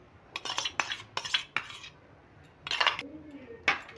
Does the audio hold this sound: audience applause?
no